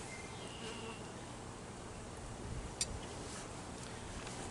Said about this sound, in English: bees are piling out the top